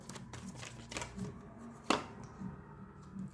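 Tarot cards shuffled and drawn during a reading, with soft riffling and sliding card sounds, a few quiet taps and one sharper snap of a card, all fairly close and low in level.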